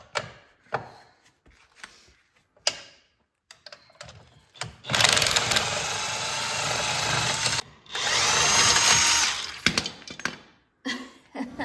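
A power drill or impact driver on a CFMoto winch backs out fairlead bolts in two loud sustained bursts of whirring, separated by a short pause, with scattered clicks and handling knocks before and after.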